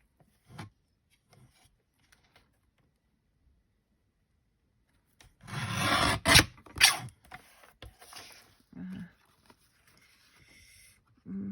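Card stock being cut for napkin card making, a short burst of rasping, scraping trimming strokes close by after a quiet stretch, with a few soft taps and handling noises around it.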